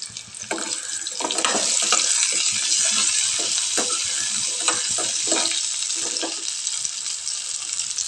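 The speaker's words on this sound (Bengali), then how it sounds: "এখন দেখো আমার ভেজে রাখা আলুগুলো পুরো ফ্রাই হয়ে গেছে" Potatoes frying in hot oil in a pan, with a loud, steady sizzle and crackle and frequent stirring and scraping sounds close up throughout.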